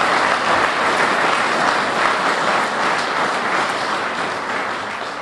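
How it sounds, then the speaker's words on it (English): Sustained, dense applause from the audience at the grand re-opening ceremony of the Benicia Veterans Memorial Building, loud and steady throughout before tapering slightly at the end. "So let's give Les an applause."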